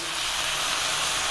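Red cooking wine hits a hot pan that held grilled rib-eye steak and portobello mushrooms, giving a bright, loud, steady sizzling hiss of steam that fills the short moment alone.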